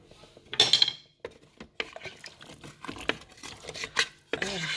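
Carrots and potatoes are stirred in a full Cookeo multicooker pot, giving close clinks and scrapes of a utensil against the pot with soft rustling of the vegetables, under occasional quiet speech.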